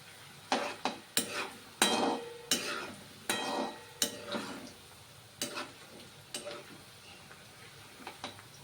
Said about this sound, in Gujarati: હવે આપણે કારેલાને તરી લઈએ